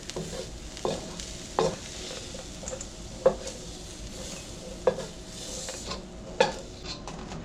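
Onions sizzle in a hot pan for a beef and broccoli stir fry, a soft steady frying hiss broken by sharp clinks and scrapes of a utensil stirring, close and fairly quiet.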